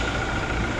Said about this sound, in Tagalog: Kaya na pa siya umaandar, tahimik yung makina niya.